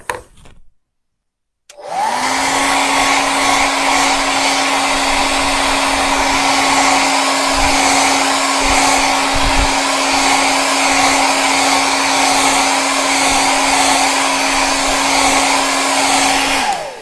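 A hair dryer blows steadily on a wet watercolor painting, a loud continuous whir with a strong motor hum that starts abruptly after a moment of silence and runs unbroken to the end.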